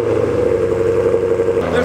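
A cold Ford Mustang engine runs at a high, steady idle with a droning hum, heard near and loud, while a person talks over it.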